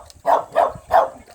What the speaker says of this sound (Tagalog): Ayan, may aso.